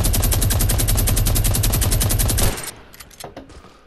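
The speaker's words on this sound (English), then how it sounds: "I'm shooting my minigun." A minigun in a video game fires a loud, rapid unbroken burst of shots for about two and a half seconds, then cuts off, leaving faint game ambience.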